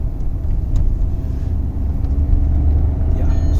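A Volkswagen Taigun 1.0 TSI engine revs toward 3000 RPM on an open road, a steady low rumble with road and cabin noise, heard from inside the car.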